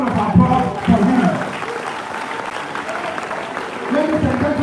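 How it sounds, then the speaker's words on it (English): Audience applause at a live political gathering at UCC honouring a steel company owner, a broad steady wash of clapping with voices and crowd noise mixed in throughout. "A big round of applause for him."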